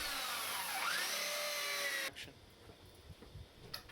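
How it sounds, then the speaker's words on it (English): A power drill whines at high pitch, its tone dipping as it bores 5mm holes into a wooden post, then cuts off, leaving faint clatter and handling noises. "pre-drill 5mm holes into the post for the coach screw eyes to screw in"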